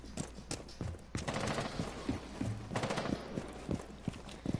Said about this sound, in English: We getting shot at already.